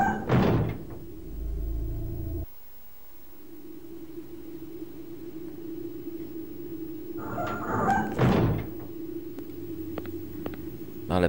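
A door opens in the Sega Saturn video game Deep Fear: a loud mechanical burst at the start and another near the end, with a steady low electronic hum between them.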